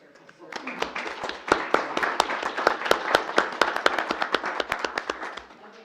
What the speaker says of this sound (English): Round of applause for your service